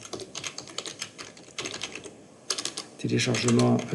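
Typing a file name on a computer keyboard in a Moodle course setup, with quick irregular key clicks close up, followed by a louder burst of denser noise at the end.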